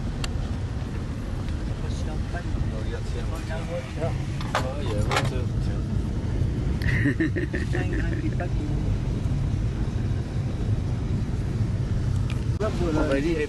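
Vehicle engine running steadily on a road between Kathmandu and Chitwan in Nepal, a continuous close rumble with passing traffic, while people talk over it.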